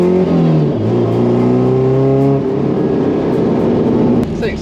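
A drift car's engine hums steadily while driving, its pitch dropping as the revs settle, then holding a low, even drone with a brief rattle near the end.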